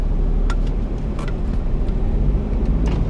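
A 1992 Mitsubishi Bravo turbo kei van drives along, its engine and road noise a steady low rumble inside the cabin, with a few faint clicks and rattles over the drone.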